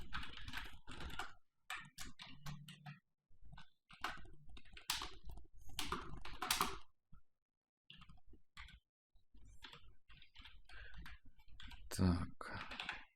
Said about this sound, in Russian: Так, ну опять печатаем.